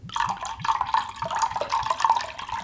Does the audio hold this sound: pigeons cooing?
no